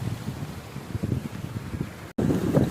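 Steady gusty wind buffets the microphone in low rumbling bursts, continuous for a few seconds with a brief dropout near the end.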